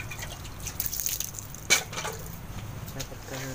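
Water drips and trickles softly into a handmade clay stove as it is soaked, with one sharper splash partway through and quiet talking in the background.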